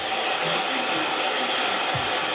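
A hair dryer blows steadily while drying a man's medium-length hair, a continuous loud broadband whoosh with no pause, the airflow shifting slightly as it moves through the hair.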